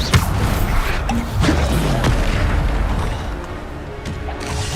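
A Bombarda blasting spell explodes in the Hogwarts Legacy video game with a loud, close boom and crash, followed by rumbling impact and debris over a noisy battle background.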